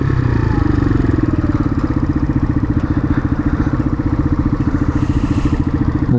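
Motorcycle engines rumble loudly and close in a steady, throbbing idle-like pulse, with some clatter and a brief rise near the end.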